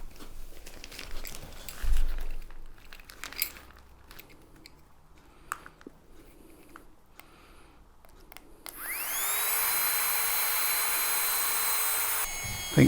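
Battery-powered air pump inflating a Thermarest sleeping pad, starting after a stretch of crinkling and handling noises, then a steady, loud, high-pitched whine that runs on for several seconds close by.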